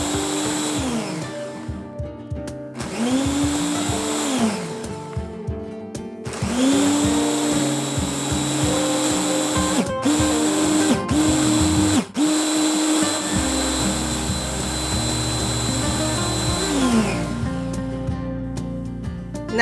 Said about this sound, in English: Now the process will continue until all of your ingredients are incorporated and they've been blended